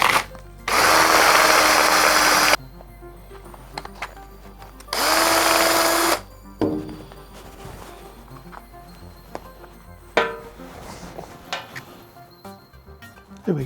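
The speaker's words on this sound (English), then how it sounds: "You place the insert and then do the trimming." A power tool whines loudly in two bursts of a couple of seconds each while trimming a fountain pen kit blank, followed by quieter clicks, scrapes and handling noises.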